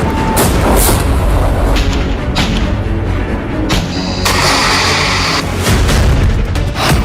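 A missile attack of the kind Hezbollah is waging on Israel sounds as a continuous loud, dense roar broken by heavy booming blasts and bursts, harsh and saturated throughout with no clear voices.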